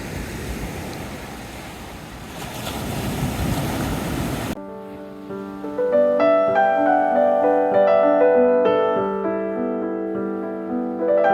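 Ocean surf washes onto a beach on Nusa Penida, Bali, as a steady, fairly loud roar of breaking waves for about four seconds, then it cuts off abruptly and music takes over.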